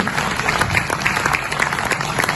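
An audience at an international mushaira poetry ceremony applauds, producing steady, dense clapping that holds at an even level from start to finish.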